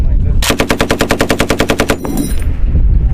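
Marines fire an M240B machine gun in a steady run of about fifteen rapid, evenly spaced loud bursts, close and sharp, ending abruptly, with faint range noise afterward.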